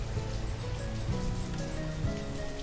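Steady rain falling and pattering on surfaces outdoors, a dense continuous hiss with scattered drops, loud and close with no voices.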